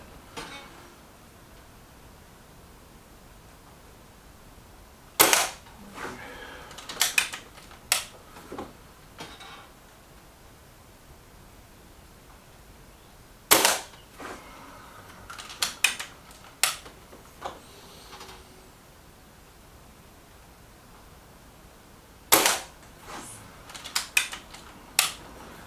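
A Reximex Zone air rifle firing FX 16 grain pellets at a standard paper target, with sharp individual shot cracks spaced seconds apart in small clusters, each followed by the clicks and clunks of cycling the action, in a quiet setting.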